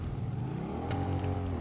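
Motorcycle engine in GTA V runs steadily throughout, a continuous low rumble with harmonic revving tones rising slightly near the end, no talk over it.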